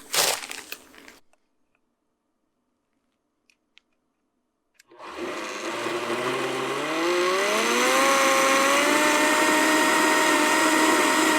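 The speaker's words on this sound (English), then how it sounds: "we're gonna go ahead and turn this blender on." After a brief clatter and near silence, a Vitamix blender motor kicks on loudly, whining as its pitch climbs and then settling into a steady high grinding roar.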